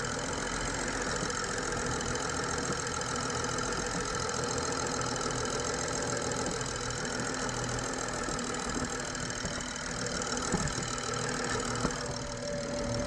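A BMW 535i engine idles with the loud, rapid ticking of its direct fuel injectors, a steady close-up clatter over a constant engine hum for the whole stretch, without any talking.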